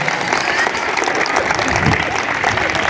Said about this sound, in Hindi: मेरे लिए भी एक बार जोरदार ताली मांगना चाहता हूं।